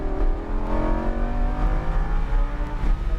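A Lamborghini Huracan LP 610-4 engine revving hard as it accelerates on a track, the pitch climbing with strong harmonic whine and a rumbling low end, loud and close.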